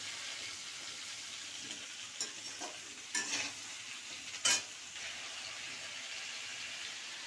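Ridge gourd frying in a pan with oil, with a steady soft sizzle and a few scraping stir strokes from a spoon against the pan. No talk.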